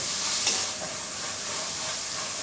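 Steady broadband sizzle of onions sautéing in a pan for potato kurma, with a soft stirring scrape near the start and no talking.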